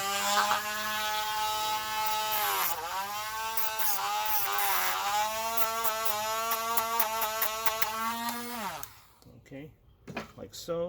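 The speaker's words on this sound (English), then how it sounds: "If you want, you can use a Dremel, smooth that off a little bit." A Dremel rotary tool buzzes loudly and steadily while it smooths the sharp cut edge of a metal hook for an Estes model rocket engine. Its pitch dips as it bites, and it stops near the end.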